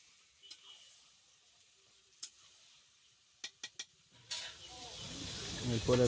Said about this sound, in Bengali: ভালো করে একটু নাড়িয়ে দিব, নিচে যেন ধরে দেয়।